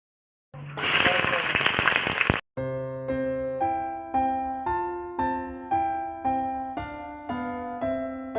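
Onions hit about a quarter litre of hot oil for tomato rice, giving a loud, hissing burst of sizzling that lasts about two seconds before stopping abruptly, followed by a run of plucked musical notes.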